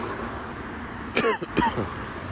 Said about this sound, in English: You have to excuse me on this cough.